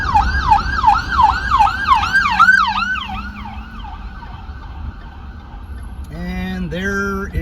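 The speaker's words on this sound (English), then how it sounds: "an ambulance." An ambulance siren wails in rapid repeating sweeps, loud and near at first, then fading as the vehicle passes, before a steadier two-tone siren pattern rises toward the end.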